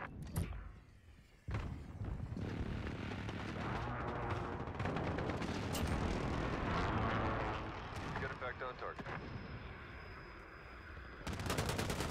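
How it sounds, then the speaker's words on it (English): A precision airstrike in Call of Duty: Modern Warfare multiplayer, a sustained rumbling barrage of booming impacts and gunfire lasting several seconds, with radio voice chatter over the top. "Precision airstrike available"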